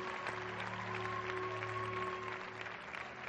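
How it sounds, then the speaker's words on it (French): Applause from an audience at a dance competition semi-final rises as a steady, faint wash of clapping with a few sustained tones underneath. "Un tonnerre d'applaudissements pour eux"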